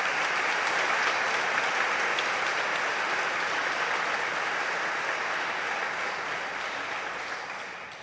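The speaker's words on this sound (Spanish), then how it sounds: "Un aplauso a todos" A dense, continuous wash of applause from a parish congregation at an evening testimony gathering holds steady and close, then slowly tapers off toward the end.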